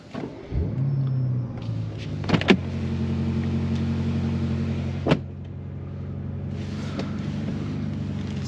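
A 2022 BMW M5 Competition LCI engine cranks and fires, then settles into a deep, steady idle rumble with a couple of sharp blips along the way, heard close and alone.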